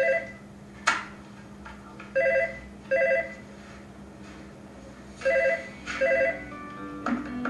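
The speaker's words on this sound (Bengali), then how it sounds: "মা ফোন বাজছে" A phone rings indoors, its short electronic tone repeating in spaced bursts over a quiet room with no talking.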